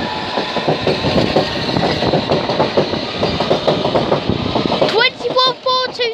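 A London Underground District Line train pulls out of Barking station, loud and close, with rhythmic wheel clatter over rail joints and rising squeals near the end.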